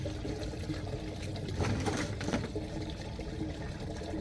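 Waste from an RV black water tank rushing out through the opened dump valve, a steady loud gushing and sloshing flow that swells briefly midway, with no talking.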